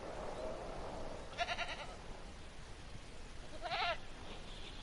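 Goat bleating in the dinosaur park game Jurassic World Evolution, two short wavering bleats about two seconds apart over a steady ambient background hum.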